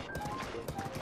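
Horse hooves clip-clopping along a path in the video game The Legend of Zelda: Breath of the Wild, a brisk short run of steps mixed with soft game music.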